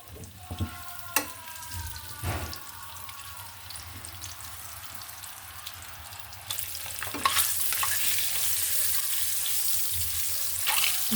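Egg poured into hot oil crackles and sizzles, with a few sharp stirring clicks early on before the frying swells into a louder, steady hiss toward the end.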